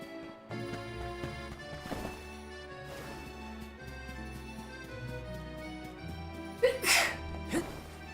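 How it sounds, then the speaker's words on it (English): A loud sneeze in the background of the game Visions of Mana, one sharp burst near the end over game music and effects. "Big sneeze in the background."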